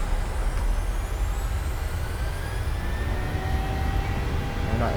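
Engines of a Boeing 737-800 airliner spooling up toward takeoff thrust, a loud, steady roar of turbine noise with rising tonal whines building over several seconds.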